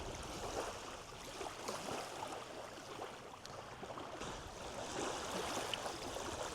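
Gentle Lake Michigan waves wash onto a beach at a Wisconsin park on a windless day, a soft, continuous rush and fizz of water at low volume with no voices.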